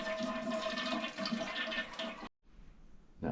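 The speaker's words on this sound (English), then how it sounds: "I do have a pump, a little siphon, that's going to get most of this water out" Steady rushing and gurgling of water as a small siphon pump drains a toilet tank, loud and continuous, then an abrupt cut to near silence before a faint hiss returns.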